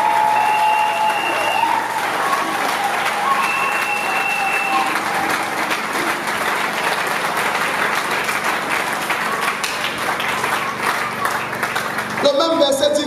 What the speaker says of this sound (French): clap for the one who distinguished you?